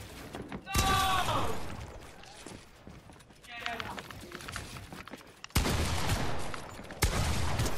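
Pump shotgun blasts ring out in Fortnite buildfights, several sharp close shots spread irregularly across the moment, with people talking between them.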